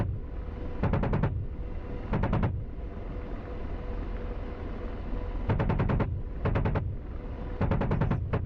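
An AH-64 Apache's cannon fires in the DCS flight game, with five loud rapid bursts of gunfire of roughly half a second each, separated by gaps filled with a steady engine and rotor drone.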